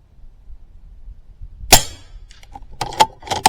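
A Skout EVO .25 calibre air rifle fires H&N slugs at a 100-yard range, giving one sharp, close crack. A few fainter metallic clicks and clacks follow in the quiet after the shot.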